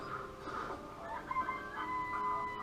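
Chickens in the Danganronpa: Trigger Happy Havoc video game, clucking and warbling steadily over a constant ambient background hum, with no one talking.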